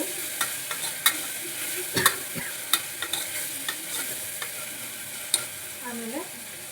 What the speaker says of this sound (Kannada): ಹೀಗೆ ಮಿಕ್ಸ್ ಆದಮೇಲೆ ಸ್ವಲ್ಪ ಹಸಿ ವಾಸನೆವರೆಗೂ ಹುರ್ಕೊಳ್ಳಿ